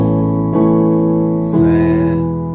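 A loud, sustained D first-inversion piano chord rings out, and the upper right-hand notes are struck again twice in quick succession over the held bass.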